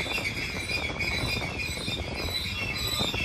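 A manifest freight train with Boise Cascade boxcars rolls past at Verdemont, San Bernardino, producing a steady rumbling wash of wheel and rail noise with faint high squeals, continuous and fairly distant.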